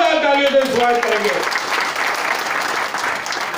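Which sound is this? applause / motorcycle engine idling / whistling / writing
applause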